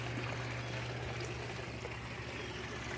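A steady, quiet trickle of water runs through a screen-wire filter set inside a Coke bottle in a hydroponics garden drain system, continuous and close with a faint low hum beneath it.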